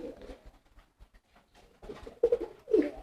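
A female pigeon cooing in a cage: a few soft, low coos, faint and close, in a quiet setting.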